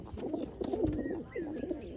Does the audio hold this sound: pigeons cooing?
yes